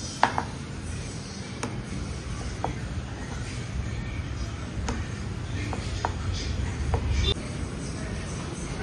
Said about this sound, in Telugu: ఈ విధంగా పీసెస్గా కట్ చేసుకోవాలి